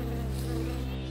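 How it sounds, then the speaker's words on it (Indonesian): Bees buzzing together in a dense, steady drone inside a place full of bees and bats, loud and continuous with no talk over it. "ada banyak lebah dan kelelawar di dalamnya."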